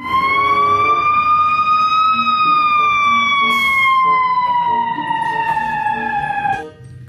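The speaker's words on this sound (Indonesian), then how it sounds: "Pemadam kebakaran." A toy fire truck siren wails continuously, loud and close, its pitch slowly rising then gliding down over several seconds before cutting off, with faint clatter underneath.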